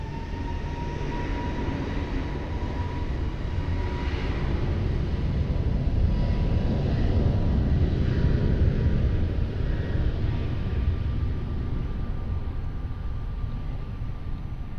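An airliner takes off from runway 20 at Lisbon Airport, its engines making a steady, broad roar heard from a distance that rises slightly and then holds throughout.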